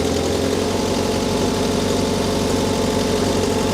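A UAZ 452 Bukhanka van engine idles close by with a steady, even mid-low throb and faint vibration, constant across the whole stretch with no voices.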